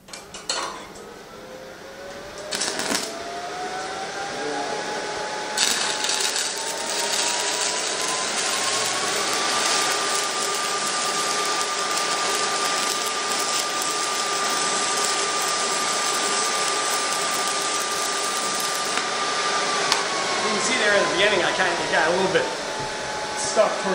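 A 6010 stick electrode burns on a Miller Electric 220 welder after a restart, giving a steady, loud crackling hiss that runs for about twenty seconds after a brief strike at the start.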